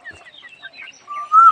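Chickens cluck in short, scattered bursts in a temple garden, ending with a longer, louder rising call, fairly close with no talking.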